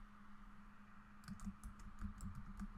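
Slow typing on an iMac computer keyboard, a sparse, uneven run of soft key clicks over a steady low electrical hum, close and quiet.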